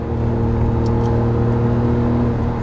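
A Lamborghini Murciélago engine accelerates on the Las Vegas Motor Speedway track, a loud, dense, steady mechanical roar heard close from inside the car.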